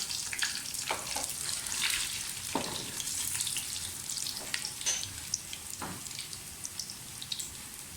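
Steady sizzling and crackling of cinnamon, black pepper, cloves and cumin frying in hot oil, with occasional pops and stirring sounds, fairly quiet and close.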